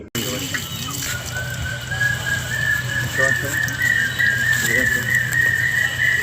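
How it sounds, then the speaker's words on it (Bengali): Birds give a steady run of high whistling calls outdoors by a pond, with a constant low background hum underneath. "এটা হচ্ছে আমাদের পুকুর পাড়ের পাখির ডাক"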